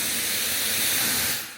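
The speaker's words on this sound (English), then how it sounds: "This is the high 18 hold quick drying hairspray." Redken high-hold quick-drying hairspray jets out in one continuous, close, loud hiss that fades as the nozzle is released.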